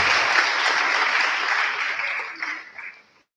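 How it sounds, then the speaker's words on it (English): A graduating Grade 12 class of 2022 at a secondary school awards ceremony applauds, a dense, loud wash of clapping that holds steady and then thins out and stops near the end. "Go ahead, give yourself a round of applause."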